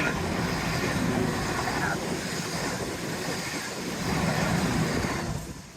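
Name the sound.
train passing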